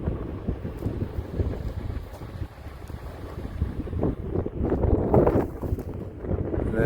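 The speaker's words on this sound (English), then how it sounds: "the wind is really hellacious right now" A strong wind buffets the microphone from a moving RV passing a fire-damaged area. It makes a heavy, uneven low rumble with gusts that swell and ease throughout.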